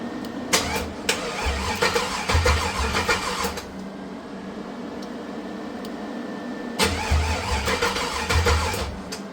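A 1985 Oldsmobile Cutlass Supreme with a weak battery cranks twice in long, labored bursts, a pause between them, the starter grinding close and loud without the engine catching; no talking.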